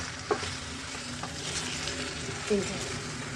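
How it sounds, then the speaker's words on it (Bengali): A prawn paste curry sizzles softly in a pan while it is stirred, with a steady frying hiss and a couple of faint utensil scrapes, heard close and quiet without speech. "টোটাল ব্যাপারটাকে আমি নাড়াচাড়া দিচ্ছি"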